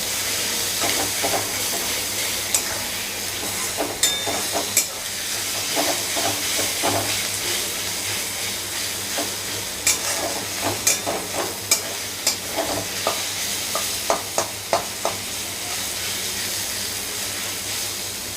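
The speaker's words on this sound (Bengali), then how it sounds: "এটা একটু ভাজা ভাজা হবে, যাতে রসুনের গন্ধটা চলে যায়" Ginger, garlic and green chili paste fries with onion in a pan, a steady soft sizzle and hiss broken by repeated sharp scraping taps of a spatula as it is stirred, no talk.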